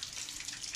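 Water runs from a small fountain tap in a village, a faint, steady splashing stream with no talking.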